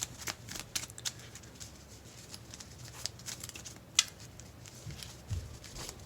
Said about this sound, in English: So I gotta shuffle.